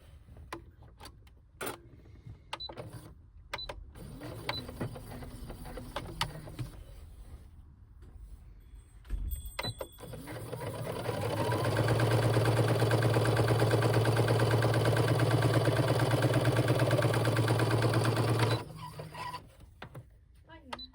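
A sewing machine stitches rows of shirring elastic, its motor running in a steady, fast mechanical whir for several seconds after scattered clicks and handling noises.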